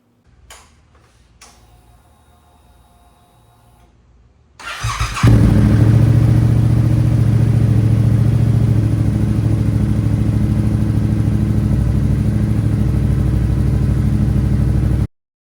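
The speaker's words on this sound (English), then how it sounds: "after you let the bike warm up for just a little bit" Yamaha R7 motorcycle engine idling while warming up before an oil change, starting abruptly after a few seconds of quiet and then running as a steady, loud, close drone until it cuts off.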